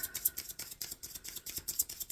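Tarot cards shuffled by hand in quick, rhythmic riffling bursts, each a crisp papery flutter, close and fairly quiet with no talking.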